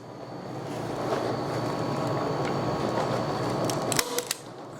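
A staple gun fastening a leather cord hanger fires a quick few sharp clicks near the end, over a steady mechanical hum of background noise.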